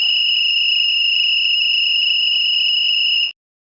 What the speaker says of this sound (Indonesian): suara itu adalah suara peluit yang sedang ditiup